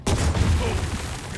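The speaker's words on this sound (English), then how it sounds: "let's follow up with a panzer shot" A single heavy Panzer tank gun shot in Headquarters: World War 2, a sharp close blast followed by a long rumbling decay.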